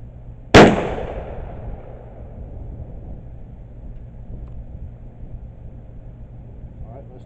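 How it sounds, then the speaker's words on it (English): A Dickinson 12 gauge shotgun fitted with its stock muzzle brake fires one 2 3/4-inch 8-shot target load: a single sharp, loud blast that rings out and decays over a second into a steady outdoor background hum. "We're going to shoot it with the stock muzzle brake"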